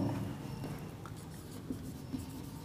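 Pen writing on paper during a math lesson, soft and close: faint scratchy strokes with a few small taps, quiet and low against background hum, no talk.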